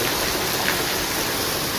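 Rain falling outside on a cool day, a steady, even hiss of drops that holds at one level throughout with no break.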